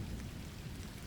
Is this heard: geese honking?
no